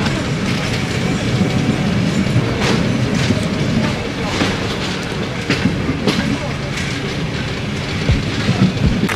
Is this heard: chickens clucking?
no